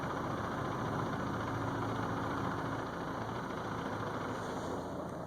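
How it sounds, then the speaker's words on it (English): A 2.0T TSI engine in a VW Jetta idles with the air conditioning running, a steady low rumble and hum with faint tapping hard to pick out, holding constant and alone without voices. "now you can hear the tapping sound"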